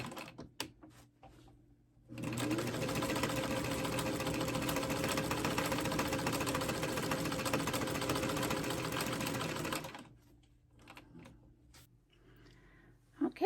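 Sewing machine running steadily for about eight seconds while stitching pieces of wool fabric for a primitive doll, a loud, continuous close-up whir with quiet handling noise before and after.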